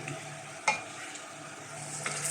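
Chicken frying in a pan with a constant soft sizzle, broken by a couple of sharp scraping stirs of the utensil against the pan.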